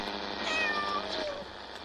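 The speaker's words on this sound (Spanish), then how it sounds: "Y luego aquí hay un gato que hace ruido." A cat meows in a hotel video game, drawn-out and wavering over a steady hum of background noise, loud and near.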